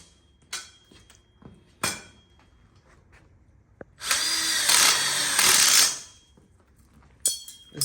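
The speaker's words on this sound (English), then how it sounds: "We use a magnetic socket on our drill so that way it holds the screws" A power drill fitted with a magnetic socket drives screws into an outdoor kitchen corner module, one steady whine lasting about two seconds, set between sharp clanks and taps of tools and hardware.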